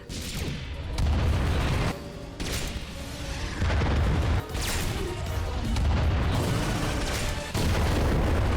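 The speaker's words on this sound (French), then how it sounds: "Le canon est prêt." Heavy sci-fi ion cannon blasts boom repeatedly in a Ratchet & Clank video game, with rumbling bursts and crackling energy, loud and dense.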